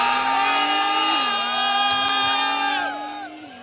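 A crowd cheers and shouts at a street drag race between a Xiaomi SU7 electric sedan and a Nissan GTR, loud and sustained over a long tonal whine that holds steady, then fades slightly near the end.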